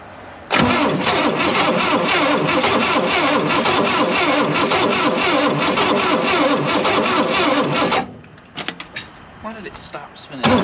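A forgotten vintage racecar's engine cranks and catches, roaring loudly and steadily for several seconds before abruptly cutting out, leaving scattered clatter and brief voices.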